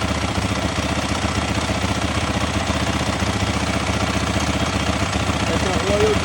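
A 2023 Yamaha WR450 dirt bike idles steadily and close by in a rapid, even putter that holds constant throughout.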